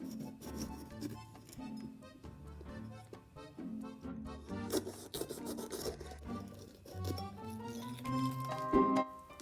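A knife cutting red and green peppers into strips on a board, quiet rasping strokes and light scrapes repeating close by, with small clinks near the end.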